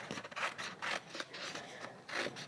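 Scissors cutting a small piece of stamp transfer meant for a candle, several crisp close snips and rubbing strokes in quick succession.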